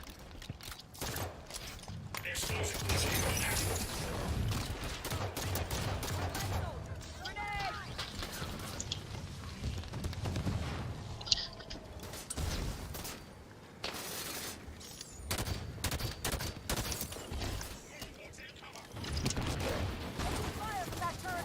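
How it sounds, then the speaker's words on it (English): Rapid turret gunfire rattles through a sci-fi shooter battle against the Mangler, loud and dense with crashing impacts and mechanical clatter, while voices talk over the fighting. "Fire from that turret."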